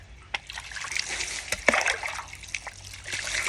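Water from a garden water pump splashing and pouring during an outdoor bath, an irregular close spatter with sharp splashes and steady trickling throughout.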